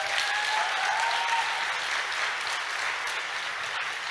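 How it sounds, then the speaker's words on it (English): Sustained, dense applause from an audience at a summit closing ceremony, honoring the event hosts, steady and loud throughout with no voices on top. "never enough applause for them."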